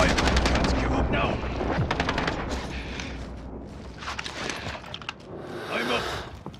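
Rapid bursts of gunfire in a Kong vs Godzilla game event, loud and continuous, with game voice lines spoken over the shooting.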